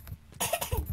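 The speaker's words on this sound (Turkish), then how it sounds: "Öksürdüm arkadaşlar tabi." A single close, loud cough from a man, a harsh burst following a short quieter breath.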